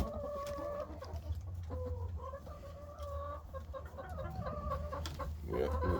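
Hens cluck repeatedly in a backyard coop, a series of close, soft throaty clucks and short calls over low rumbling background noise, with a sharper squawk near the end.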